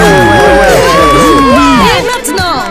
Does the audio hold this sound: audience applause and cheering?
yes